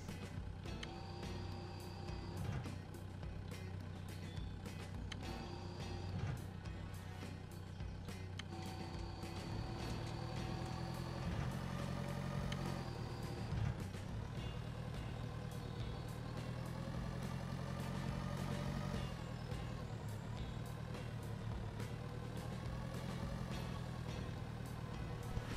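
A tractor engine drones steadily while plowing a field in the farming game Pure Farming 2018, a continuous low hum with shifting tonal whine and faint clunks, heard quietly on its own.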